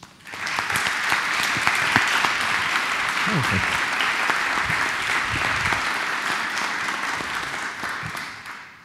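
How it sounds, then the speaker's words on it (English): An audience applauds at the inauguration ceremony for the VLQ quantum computer, with loud, sustained clapping and a brief spoken word near the start before it tapers off at the end. "So please give them a big applause."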